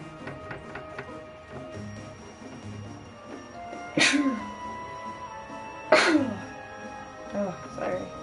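Two sharp, loud sneezes about two seconds apart, each a sudden broadband burst, followed by a fainter third one, over a quiet room background with light ambient noise.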